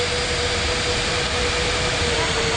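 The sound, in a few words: jet airliner taking off, from an air traffic control video game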